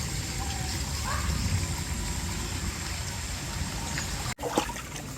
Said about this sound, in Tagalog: Ito'y umaligas-gas yung tubig.